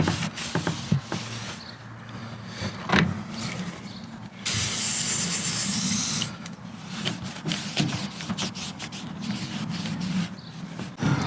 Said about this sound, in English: I'm going to use some WD-40